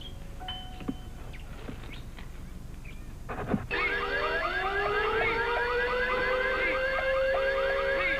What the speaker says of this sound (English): he's had installed one of those super sensitive, state-of-the-art car alarm systems